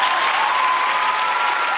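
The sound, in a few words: audience applause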